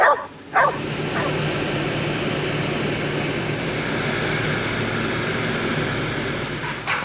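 A dog gives a few sharp barks and yips right at the start and again briefly near the end, with a steady low hum filling the long stretch between.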